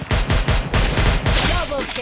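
Gunfire in the Free Fire mobile game, a rapid burst of loud automatic shots in quick succession, with a faint voice briefly at the end.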